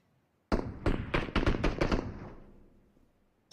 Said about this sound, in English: Here's the sound of gunfire.